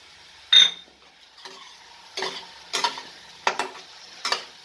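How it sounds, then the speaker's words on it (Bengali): A spatula stirs and scrapes through a cauliflower curry with chili and melon-seed paste in a pan, five or six distinct scraping strokes spaced about half a second apart, close and clear over quiet sizzling. "এটাকে ভালো করে নাড়াচাড়া করব"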